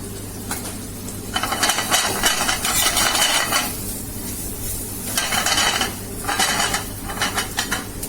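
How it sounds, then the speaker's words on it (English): Chopped onion frying in butter is stirred in a pan, with bursts of metal scraping and clinking over a steady sizzle, close and fairly loud, in two longer stirring spells. "Nice stir, we are giving a nice stir."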